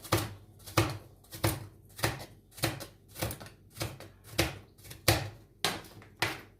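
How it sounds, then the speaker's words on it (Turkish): Regular thumping clacks of a vegetable chopper pressing through firm watermelon rind, about ten evenly spaced chops, close and alone. "Bu aparatta önce küp doğrayacağım."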